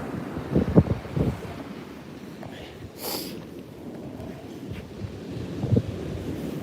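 A light northeast wind of about 5 mph buffets the microphone in low gusts over a steady wash of ocean surf on a beach; no talking.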